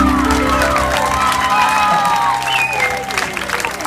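A village festival audience in Sardara applauds and cheers during a prize giveaway, steady dense clapping with whoops and shouts throughout, with some higher tonal sounds in the mix.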